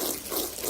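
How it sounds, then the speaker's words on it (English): Water poured or sprayed onto an area rug during cleaning to flush out a pre-treated urine stain, a steady broadband hiss and splash that stays close and fairly even throughout the brief moment. "I'm just adding a little water, so we're going to start flushing some of the stuff out"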